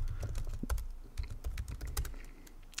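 Fast, uneven keystrokes on a computer keyboard as code is typed, close and fairly clear, with soft low thuds under the clicks and no voices.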